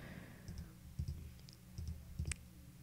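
Faint computer mouse clicks on a Linux desktop come in small pairs and singles over a low room hum, quiet and close with no talking.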